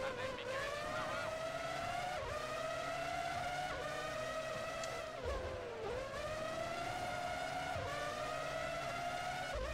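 Formula One race cars from the PS2 game Formula One 03 at the Italy round scream in a continuous high engine whine, with rising and falling pitch as the car shifts gears, loud and steady with no talk.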